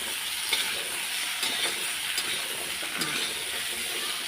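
Washed potatoes frying in hot oil, a steady broadband sizzle with faint scraping stirs now and then, close and moderately loud, no voices.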